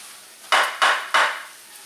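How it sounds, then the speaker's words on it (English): Three quick, evenly spaced scrapes of a utensil against a pan stirring taco-seasoned ground beef, each a sharp close swish fading out, alone without voices. "And keep stirring until it's incorporated all together"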